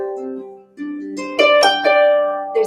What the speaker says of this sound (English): If I lean into the high end,